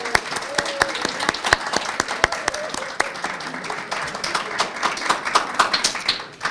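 A crowd applauds graduates at a graduation ceremony, many hands clapping in a dense, continuous patter that holds for several seconds.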